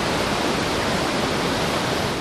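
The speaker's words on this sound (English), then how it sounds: "Victoria Falls, one of the 7 natural wonders of the world, is alive with fast-moving water." Victoria Falls sends fast-moving water crashing down in a steady, dense roar of broadband rushing noise, unbroken and close.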